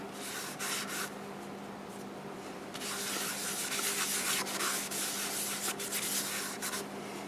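Shellac-based sanding sealer being rubbed onto a wood-turned bowl, a steady close-up friction hiss that grows louder and more continuous after a quieter start, with no talking.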